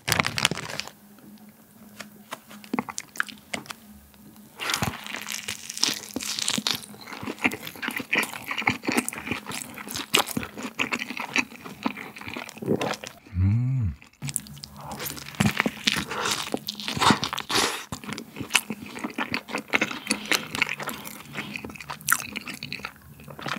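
Someone eats a Lotteria Mala Road burger up close, with soft repeated chewing, squishy bites and crinkling of the wrapper over about twenty seconds, and a brief louder bump partway through.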